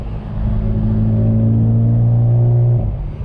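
Volkswagen MK7 GTI fitted with a Mamba GTX3071R turbo pulls under load up close, its deep, steady engine drone building and holding for a couple of seconds before easing off.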